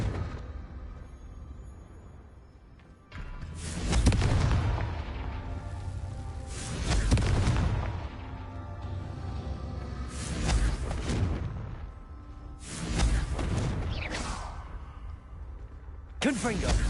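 In a video game, repeated Confringo fire spell explosions arrive as a series of loud swooshing booms, about five bursts, each with a roaring tail. A voice speaks over and between the blasts.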